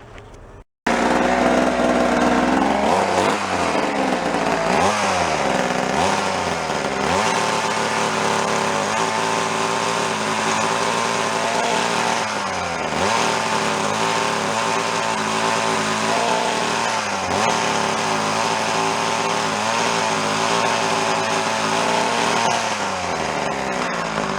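An antique Ohlsson & Rice small gas engine powering a mini drill drones steadily and loudly throughout, its pitch dipping and recovering several times as if bogging under load.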